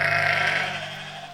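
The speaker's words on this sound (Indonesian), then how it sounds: "itu suara domba-domba Daud" A sheep gives one sustained, wavering bleat close to the microphone. The call fades slightly toward the end, with no talk over it.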